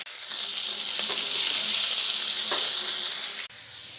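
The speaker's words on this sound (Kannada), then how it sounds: "ಎಣ್ಣೆ ಹಾಕಿ ಆಲೂಗಡ್ಡೆ ಹಾಕಿ ಫ್ರೈ ಮಾಡ್ತಾಯಿದ್ದೀನಿ." Potatoes and chopped onion fry in hot oil, a loud, dense, steady sizzle with faint stirring scrapes that drops sharply in volume near the end.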